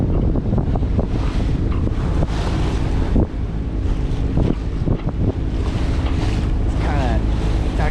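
Strong wind roars over the microphone aboard a sailboat heading from San Diego to San Pedro, a loud constant rush with buffeting gusts, water sounds and faint voices mixed in.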